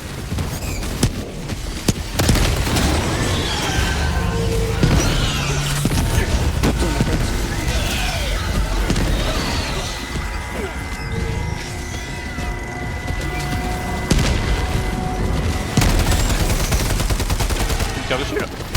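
Gunfire in the Army of Two video game, with dense rapid bursts and sharp individual shots going on continuously, while players talk over the shooting.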